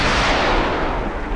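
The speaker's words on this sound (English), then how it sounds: "Missile away." A submarine fires a missile in the naval combat game Cold Waters, giving a loud, dense roaring blast that stays sustained and close across the whole moment.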